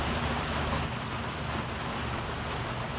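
Steady rain falls outdoors in a constant, even hiss, fairly soft and unbroken throughout, with no voices.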